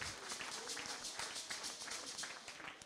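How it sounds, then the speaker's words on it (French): Scattered, fairly faint applause from a church congregation cheering the Lord, with quick uneven claps continuing throughout. "Acclamez très fort le Seigneur."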